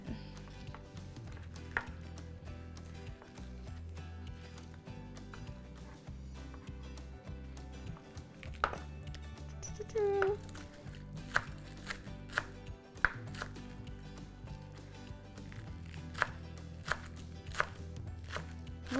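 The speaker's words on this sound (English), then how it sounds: "All right, now we're gonna get into the chopping." Food is chopped with a knife on a cutting board in a home kitchen while making honey butter baked salmon, giving a long run of quick, even taps and knocks, close and fairly clear, with light handling clatter.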